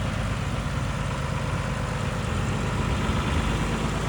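A John Deere 3350 tractor engine idles close by, a steady, loud low rumble that chugs evenly throughout without any voices.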